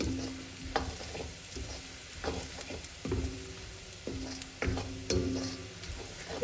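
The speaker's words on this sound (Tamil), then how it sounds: "உருளைக்கிழங்கையும் கேரட்டையும் நான் நல்லெண்ணெயில் முதல்ல வதக்கி எடுக்கிறேன்." Potatoes and carrots fry in sesame oil in a pan, a soft steady sizzle broken by repeated scraping stirs of a spatula every second or so, close but fairly quiet, with no talking.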